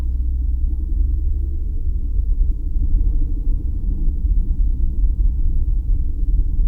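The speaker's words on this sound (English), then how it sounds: "Here I am driving through the parking lot." Steady low engine rumble from a car rolling slowly through a parking lot in The Villages, Florida, near a golf course and country club, continuous and close with no talk.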